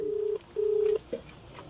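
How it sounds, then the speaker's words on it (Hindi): Outgoing call ringback tone on a phone line, two steady beeps with a short gap, followed by a faint click, heard alone and fairly quiet. "रिंग जा रहा है।"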